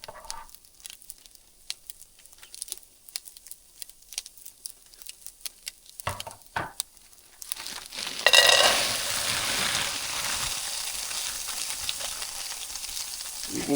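Chicken fried rice with frozen peas and carrots is stirred in a hot pan: scattered spatula clicks and light scraping, then a loud, dense sizzle swells up and holds steady.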